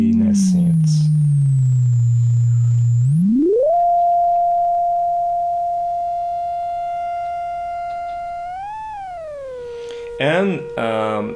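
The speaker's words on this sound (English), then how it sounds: "As you can hear, it's not a pure sine wave. There is some greediness in it." CHIPZ modular synth module by Cre8audio playing a slightly gritty, not quite pure sine tone that glides down, sweeps up to a long steady pitch, wobbles and drops, then ends in rapid chirping bursts.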